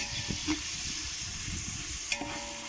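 Country chicken curry cooking in oil in a pot, a soft, steady sizzle and hiss with a couple of faint stirring taps, close by and without talk.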